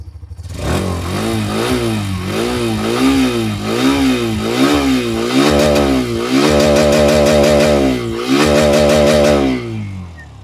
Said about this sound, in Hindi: ये साउंड निकाल रही है हीरो की एक्सट्रीम 125R रिफाइंड इंजन